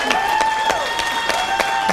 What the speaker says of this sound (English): Yes, you need to applaud your mom and dad.